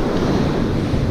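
Ocean waves breaking on a beach during surfcasting, a continuous loud roaring wash of surf mixed with heavy wind rumble on the microphone.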